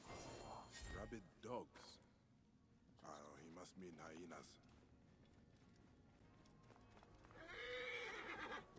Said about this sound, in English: I don't think the horse is going to do what I want it to do.